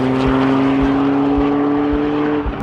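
Toyota GR Yaris driving along a UK B-road, a steady loud engine drone with road rumble and faint rhythmic thumps, no voices.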